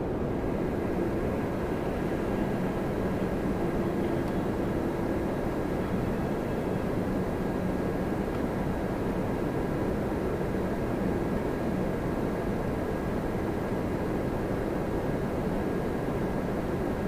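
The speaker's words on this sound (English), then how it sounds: "What a beautiful aircraft. 7879 Dreamliner." A Boeing 787-9 Dreamliner at Toronto Pearson airport makes a continuous deep jet rumble and broad roar at a steady level throughout, with no speech over it.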